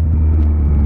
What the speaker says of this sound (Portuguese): Olha que passa o caminhão do autobomba voando pelo carro, velho